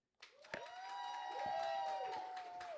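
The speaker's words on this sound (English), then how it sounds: "we are going to just give everybody thunderous applause" An improv workshop crowd breaks into sustained clapping and cheering, with rising whoops and shouts over the steady wash of applause.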